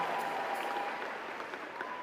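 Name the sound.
church congregation applauding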